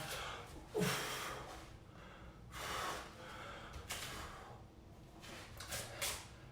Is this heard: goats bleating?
no